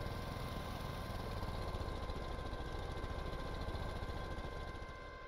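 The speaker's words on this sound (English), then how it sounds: "we'll leave the engine running" A vehicle engine in the video game Stormworks, a right-hand-drive vehicle parked with the brake on, idles in a steady, even drone throughout, fairly quiet and with no talking.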